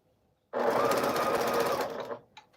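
A sewing machine stitches a quilt border in one continuous, close whirring run of about a second and a half, then stops, followed by a few faint clicks.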